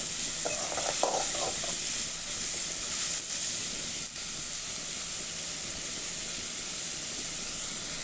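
Chopped tomatoes fry in a pan with a steady, close sizzle and hiss, a few stirring scrapes early on, no voices.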